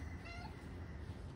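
A cat meows once or twice, faint and fairly close, with a thin drawn-out cry over quiet room background.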